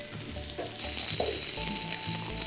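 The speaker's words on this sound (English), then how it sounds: "Once the chilies and garlic are in, time to sweat some onion." Onion sweats in a pan with garlic and chili, a bright steady sizzle with a few soft stirring scrapes, close and continuous with no talking.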